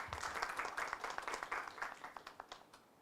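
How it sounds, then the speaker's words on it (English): A modest round of applause from a seminar audience for a speaker, distinct hand claps at an even patter that thin out and fade toward the end. "Can we have a round of applause for her, please?"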